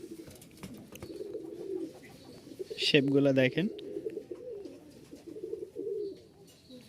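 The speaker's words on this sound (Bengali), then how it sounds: "তো দেখতেই পাচ্ছেন একজোড়া বিউটি, মাশাল্লাহ খুবই চমৎকার একটা কবুতর" Giribaj fancy pigeons coo in a soft repeated burble at close range, with a clearer, louder call in the middle, while someone talks over them.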